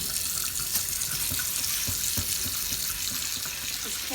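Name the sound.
washing cast iron pan with soap under running water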